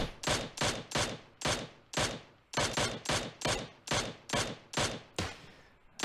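Sharp Mini 14 rifle shots in PUBG Mobile fire in a steady, evenly spaced series of about a dozen single cracks, each with a short decaying tail, heard alone without talk.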